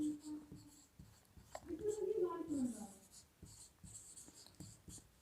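An answer being written in a maths lesson, with scratchy, irregular pen strokes, soft and close, and a voice briefly heard partway through.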